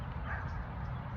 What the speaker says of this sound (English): And you hear the dogs barking